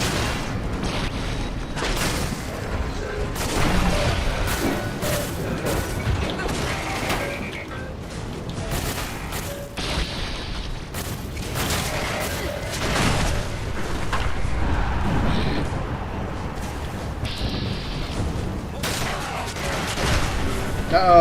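Tank bots firing guns in the Fallout 4 video game, sustained rapid volleys of gunfire and booms with mechanical clanks, dense and continuous throughout with occasional crashes.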